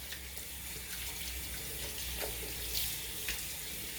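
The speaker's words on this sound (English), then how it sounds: "So you turn the water back on," Water runs steadily from a sink tap as hands are rinsed after washing, a continuous even splashing hiss with no talk.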